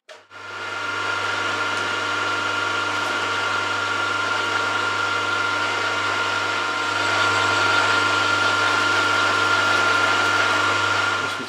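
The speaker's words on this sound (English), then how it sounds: "I've fitted a 12mm end mill because I want a flat bottom to this shoulder" A milling machine fitted with a 12 mm end mill cuts a 6 mm deep flat-bottomed shoulder, giving a continuous, even motor and cutting whine with a low hum beneath it throughout.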